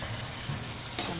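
Marinated pork kasim sautéing in a pan with a tomato-paste sauté base, a steady close sizzle with a brief stirring scrape near the end.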